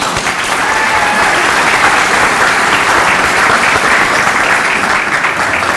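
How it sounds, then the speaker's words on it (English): An audience at an annual community meeting breaks into loud, sustained applause, with thick, even clapping filling the room from start to finish. "So let's give ourselves a round of applause."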